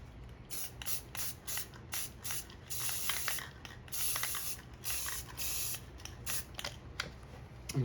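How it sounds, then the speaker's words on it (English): Spray paint hisses out in short bursts over a stencil, each spurt sharp and close, separated by brief pauses, with one longer spray near the middle and faint clicks of the can between. "I'm spraying straight down"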